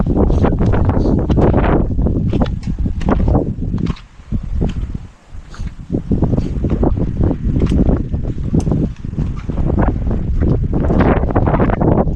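Wind buffets loudly over open water around an outrigger bangka under repair, with steady gusting roar and splashing surf filling the scene, no voices.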